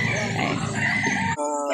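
Rooster crowing at a busy chicken market in Calauan, Laguna, a loud, dense call that breaks off abruptly and gives way to a brief quieter tail.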